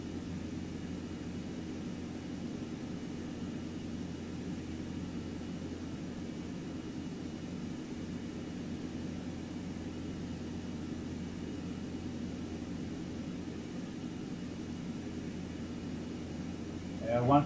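An airliner on final approach in X-Plane gives off a steady, even engine drone with a constant low hum, continuous and unchanging throughout, with a brief louder burst at the very end.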